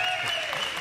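Spectators at the 2021 World Pool Championship semi-final cheer and clap, a brief steady crowd roar with a couple of sustained tones running through it.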